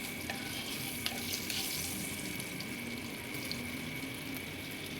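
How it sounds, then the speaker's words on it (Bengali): Slit green and red chillies frying in hot oil in a home kitchen, a steady, soft sizzle and crackle that carries evenly throughout with no talking. "এবার আমি বেশ কিছু কাঁচা পাকা লঙ্কা চিড়ে রেখেছিলাম, তো সেগুলোও দিয়ে দিলাম, তো সেগুলোও একটু ভেজে নিচ্ছি।"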